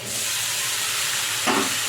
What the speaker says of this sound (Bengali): রসুনটা হালকা ভাজা ভাজা হয়ে এসছে। এবার আমি শাকটার মধ্যে দিয়ে দিচ্ছি।